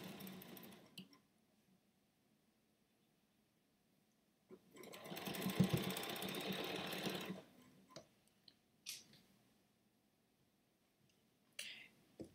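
Faint domestic sewing machine stitching a quilt, one steady run of a few seconds amid a quiet room with scattered small clicks and handling noises before and after.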